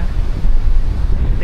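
Strong wind buffets the microphone at a pebble and stone beach near San Joaquin, Iloilo, roaring in low gusts close up, with surf likely mixed in under the rush.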